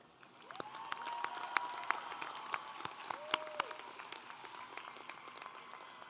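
A graduation commencement crowd cheers and applauds for faculty and staff, a broad wash of clapping with scattered whoops and whistles that swells in after a quiet start and holds steady.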